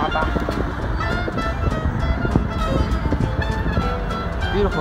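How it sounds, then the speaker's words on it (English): A city bus rumbles past on a Boston street at night, its steady engine drone blending into a continuous wash of traffic noise with no lull across the moment. "The bus."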